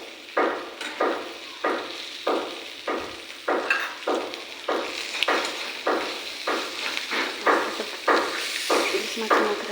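A hilsa fish head frying in a pan with vegetables, heard as a steady hiss broken by rhythmic scraping or stirring strokes about every half second, fairly close and moderately loud, with no talking.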